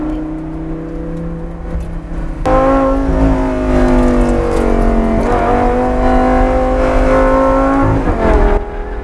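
A Lamborghini Gallardo GT race car on a track lap, its engine a loud, close, steady high-pitched roar that jumps sharply with a gear shift, then holds and climbs with small dips between shifts, with no talking.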